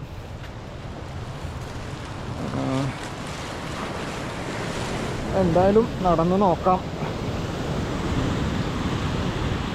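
Surf roars steadily, blending with wind noise against the microphone, while a person speaks briefly over it.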